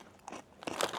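Freeze-dried Skittles Pop'd candy is bitten close to the mic, giving a quick crisp crunch, then a louder, denser crackling crunch a half-second later.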